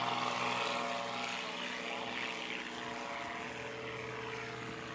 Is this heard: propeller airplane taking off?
yes